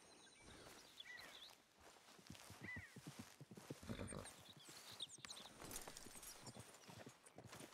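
Horse hooves walk in Red Dead Redemption 2: an irregular run of soft clip-clop hoofbeats at a steady walking pace, fairly quiet and close.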